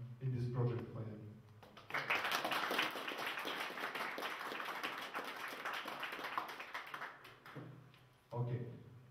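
An audience applauds a project developer at a talk on a Skolelinux and Emmaus community project; a burst of dense clapping runs for several seconds between stretches of someone speaking, fairly quiet overall.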